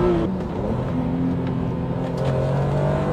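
A BMW M3 E36 engine runs close by with a steady, throaty hum and a slight rise in pitch as it revs, with no talk.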